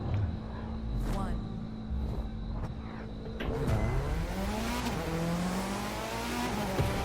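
Race car engines rev and climb in pitch at the start of a rally race in The Crew 2 video game, with rising whines over steady engine noise and someone talking over it.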